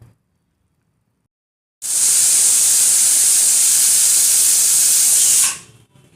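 A Prestige pressure cooker cooking khichuri lets out one loud, sustained steam whistle after a near-silent start, hissing strongly for several seconds before cutting off abruptly.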